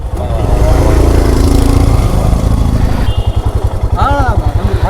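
Royal Enfield Bullet 500 motorcycles arrive at a welcome gathering in Kodaikanal, with loud, close engine thumping that switches to a steady rhythmic idle beat, mixed with voices and brief melodic sounds.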